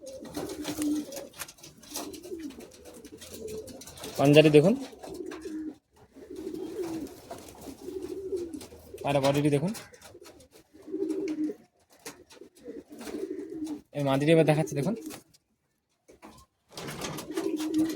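Madrasi pigeons at a home loft coo in repeated low throaty bursts, fairly close, while someone talks between and over the calls.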